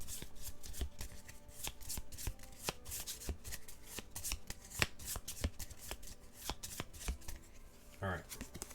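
Cards from the Star Wars Pandemic board game shuffled by hand, a rapid run of crisp riffling slaps and flutters close to the microphone, steady for several seconds with a brief ruffle near the end.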